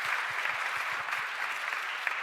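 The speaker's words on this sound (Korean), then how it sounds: "박수로 축복해 주시겠습니다" Applause from a congregation at a Sunday church youth service, a steady patter of many hands clapping, moderately loud and sustained throughout.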